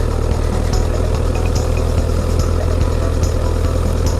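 A Honda CBR1000RR sport bike idles in gear, a steady close low engine rumble with a fast even pulse that holds level throughout, no one speaking.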